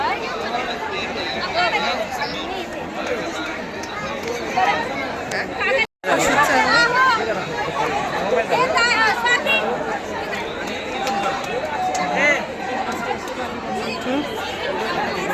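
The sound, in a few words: large crowd chattering at Jejuri Khandoba temple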